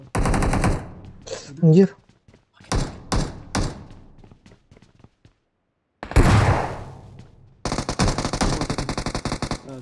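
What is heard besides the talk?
Uzi gunfire in the video game PUBG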